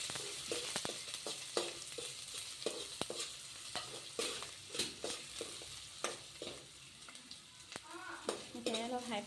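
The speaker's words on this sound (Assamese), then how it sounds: "এতিয়া পিঁয়াজখিনি দি দিম। তাৰপিছত এইখিনি অলপ ফ্ৰাই কৰি ল'ম।" Onions frying in a hot pan at the start of a bamboo shoot dish: constant crackling sizzle with sharp pops and stirring scrapes throughout, fairly close, no talk.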